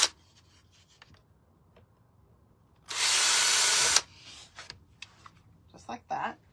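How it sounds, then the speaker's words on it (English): A power drill whirs loudly for about a second in one burst, amid quiet scraping and small handling noises before and after. "So I'm just going to drill some holes up here at the top."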